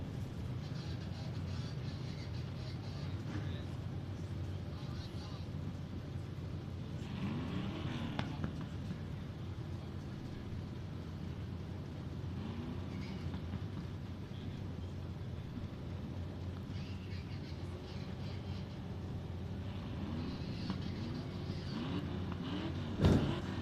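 Race cars circle the track at Devil's Bowl Speedway during the Lone Star 600, a continuous distant engine drone with occasional louder passes, faint throughout.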